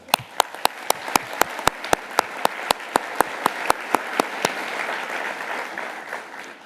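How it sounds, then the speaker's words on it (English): Applause from the audience at the closing award ceremony of the International Astronautical Congress, with sharp, evenly spaced loud claps from one nearby person over a broad crowd wash that swells and then carries on alone after the claps stop. "Please let's give them all a warm round of applause."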